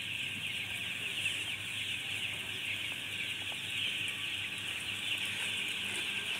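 Broiler roosters cluck steadily inside a crowded chicken coop on a herbal-raised farm, their calls blending into a constant hiss of flock noise and fans with no clear pauses.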